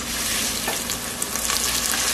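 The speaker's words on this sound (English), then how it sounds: "So now what I'm going to come and do is I'm going to add my rice." Rice hits hot rendered pork fat from tocino and crackles in a dense, steady sizzle, with faint stirring scrapes, loud and close throughout.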